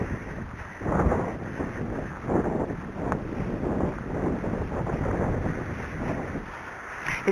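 Strong high wind buffeting the microphone while riding an Arabian horse outdoors, a continuous low roar with gusty surges and rumbles.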